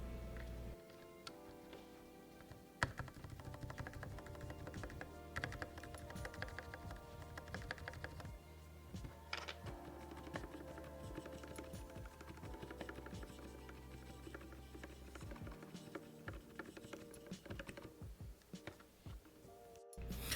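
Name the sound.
typing on Anne Pro 2 keyboard with lubed stabilizers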